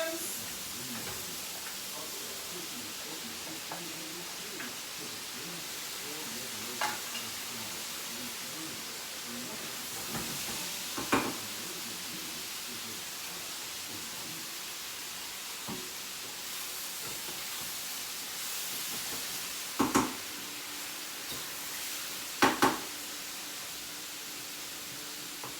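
Mushrooms fry in a hot pan for beef risotto, giving a continuous soft sizzle and hiss with occasional sharp clicks and knocks of utensils, heard over a long stretch.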